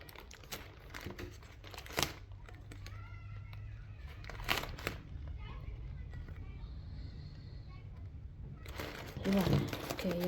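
A knife cuts into a plastic package during an unboxing, with crinkling and scraping bursts of plastic close up and sharp tearing rustles, while people talk nearby.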